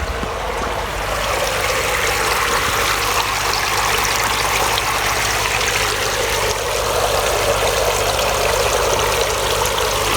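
Water pours steadily from a koi pond pressure filter while the pump runs, giving a continuous, fairly loud trickling gush with no pauses.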